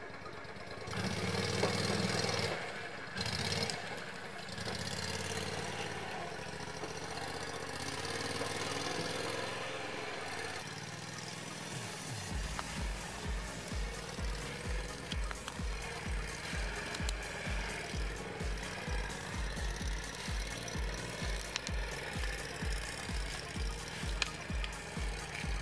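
An Argo Bigfoot 800 all-terrain vehicle drives off-road through forest, its engine starting rough and noisy, then settling into a steady pulsing drone with a regular beat for the rest of the run.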